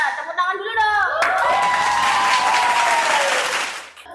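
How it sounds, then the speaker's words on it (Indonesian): A school audience breaks into applause after a talking voice, building into a dense sustained clapping that fades near the end, with speech just before it starts. "Tepuk tangan dulu dong."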